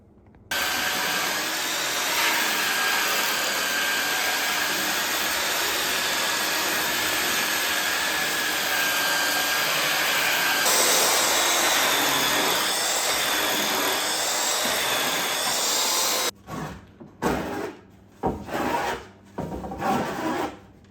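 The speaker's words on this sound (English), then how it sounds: "All we need to do now is go ahead and do some sanding" Steady abrasive rasping of sanding on a wooden board for a cabin door, continuous and fairly loud for most of the stretch, then breaking into short irregular strokes near the end.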